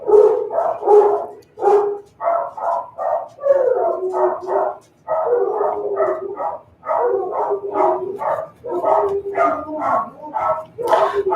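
Several excited dogs bark, yip and howl nonstop at close range, loud overlapping bursts filling the whole stretch.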